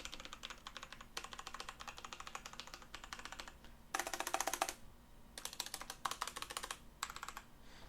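Typing on an Azio MGK1-K backlit mechanical gaming keyboard with brown switches, quick bursts of clicky keystrokes close up, pausing briefly between runs.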